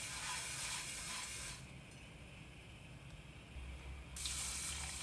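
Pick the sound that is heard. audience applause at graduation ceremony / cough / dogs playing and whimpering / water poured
water poured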